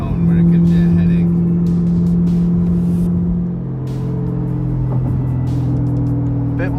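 A C8 Corvette with a LeMans Edition exhaust drones steadily with a smooth, even tone, the pitch shifting partway through as if changing gear, while voices talk over it.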